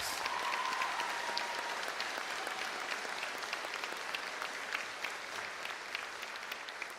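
A graduation audience at Vancouver iTech Preparatory gives the students sustained applause, a broad, continuous roar of many hands clapping in a large space.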